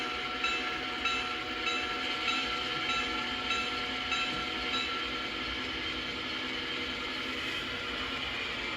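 A model railroad train rolls out of a siding with a steady mechanical hum and faint whine, plus light periodic clicking, at a constant moderate level with no talking.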